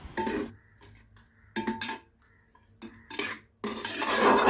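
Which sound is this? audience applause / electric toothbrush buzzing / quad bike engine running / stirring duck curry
stirring duck curry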